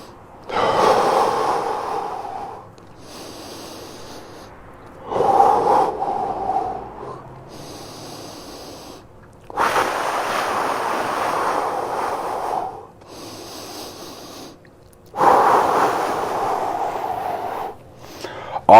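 Deep, slow breaths drawn in and out while a stretch is held during an exercise session, three or four long airy exhalations spaced several seconds apart with quiet gaps between them.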